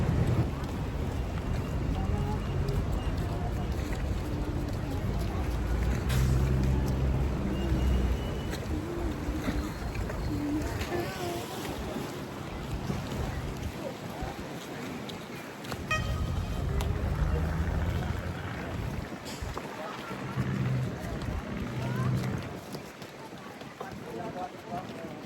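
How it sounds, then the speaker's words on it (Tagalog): A small boat runs across open water toward Carabao Island near Boracay, its steady engine rumble and rushing wind filling the whole stretch at close range, with voices talking over it now and then. "Isa pang bangka."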